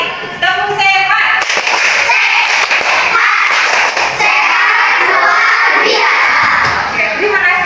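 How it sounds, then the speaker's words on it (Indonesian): A group claps out the 'tepuk sehat' chant in dense, rhythmic bursts, loud and close, with voices chanting along throughout. "Sekali lagi, tepuk sehat."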